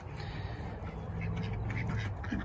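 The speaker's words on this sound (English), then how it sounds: "She has some beautiful chickens and some runner ducks." Soft, low quacking from a small group of runner ducks on a farm, muffled and fairly close, over a steady background rumble.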